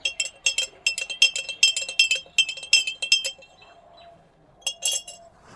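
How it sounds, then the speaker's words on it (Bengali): A spoon clinking repeatedly against a glass jar as salt is added to water for preserving raw mango, a rapid run of bright metallic taps, then a pause and a final short burst of clinks. "দু চামচ মতো নুন দিয়ে দেবো"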